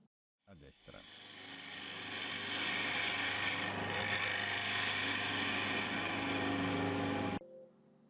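Wood lathe turning a bowl with a 10 mm gouge, a steady close scraping and rasping of the cutting edge over spinning wood with a constant motor hum, starting abruptly and cutting off near the end.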